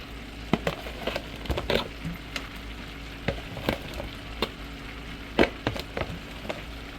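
Sausage sizzles and crackles in a hot pan with a steady frying hiss, broken by sharp pops and a few louder clacks of handling throughout.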